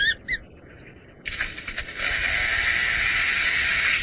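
A lyrebird mimics a forester's chainsaw: a few short harsh calls, then a loud, steady buzzing drone that rises in and holds like a running saw, with mechanical clatter at its start.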